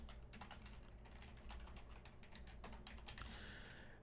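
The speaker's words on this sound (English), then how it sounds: "I'm typing it in here" Rapid typing on a computer keyboard, a dense stream of light key clicks at close range with a low background hum, no talking.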